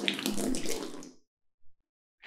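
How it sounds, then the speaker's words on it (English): Water gushes out of an upturned plastic drinking bottle in a steady splashing pour for about a second, then stops, leaving near silence with a faint knock. "if I turn this upside down, the water comes out because the air can get in"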